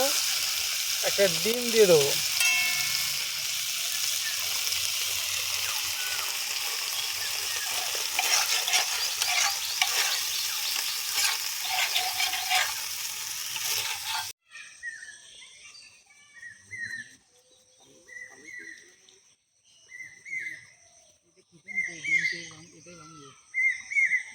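Chicken meat frying and being stirred in a pan for an egg chicken roll, with a steady loud sizzle and scraping for most of the clip before it cuts to quieter cooking sounds with a few speaking voices.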